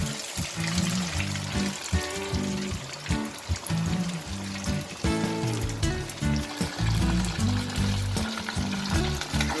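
Potatoes fry in hot oil in a pan for a homemade fish curry, a steady crackling sizzle that runs throughout with tuneful music playing over it.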